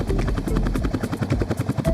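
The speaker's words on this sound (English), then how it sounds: "The helicopter says chup chup chup chup." A helicopter in flight gives a close, loud, rapid rotor chop, evenly pulsing throughout with a low engine rumble beneath.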